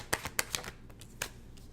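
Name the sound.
shuffling a deck of tarot cards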